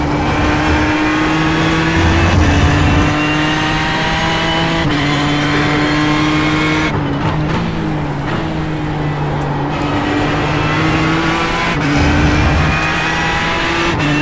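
A race car in the iRacing sim, driven in a Roush Performance All-Star invitational, drones loudly and steadily with harmonic engine tones rising and falling through gear changes and corners, brief tire squeal, no talking.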